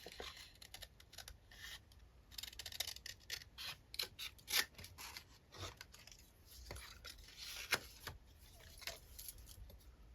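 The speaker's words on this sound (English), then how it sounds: "most of my scissors are Tim Holtz" Tim Holtz scissors snip through paper in quick, irregular crisp cuts, close and fairly quiet, with small rustles of the paper between snips and no talking.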